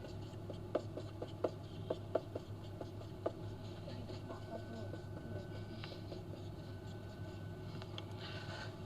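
Pen scratches on paper while DNA base letters are written out, with a run of quick small taps early on, then softer strokes, faint and close under low room hum.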